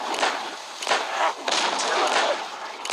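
Dynamite explodes in the survival game Westland Survival, a series of loud, sharp, cracking blasts that come in quick succession over a few seconds, fairly close and dominant.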